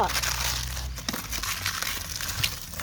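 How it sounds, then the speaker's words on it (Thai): Eggshells crushed and squeezed by hand, close crinkling and crackling bursts that come in irregular clusters while someone talks over them. "พยายามขยำขยำบี้บี้ไข่นะคะนี่"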